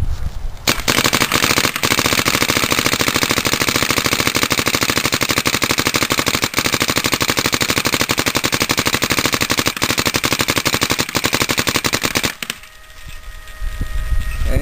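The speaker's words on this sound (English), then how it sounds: "Let me shoot a couple balls real quick." A paintball marker, a DLX Luxe or Dye DM9 fed by a Dye Rotor loader, fires a loud, unbroken rapid stream of shots for about twelve seconds, then stops abruptly.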